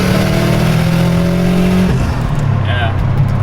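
A turbocharged Honda Civic revs hard with an open blow-off dump, a loud, close engine drone that cuts sharply mid-way as the throttle lifts, followed by a brief whoosh of the dump valve.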